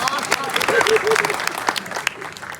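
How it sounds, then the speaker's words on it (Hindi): A crowd at a Hindi kavi sammelan poetry gathering claps in a rolling burst of applause, with a voice speaking over the clapping throughout. "ताली बजाइए"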